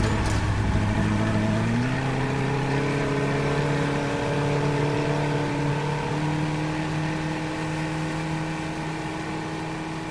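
A small boat motor runs steadily, its droning hum rising in pitch after about two seconds and then holding at an even rumble to the end, with no voices.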